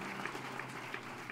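Audience applause welcoming guests at a national seminar on ancient and spiritual sciences, a steady wash of clapping from a hall crowd at moderate, even loudness with no talk over it.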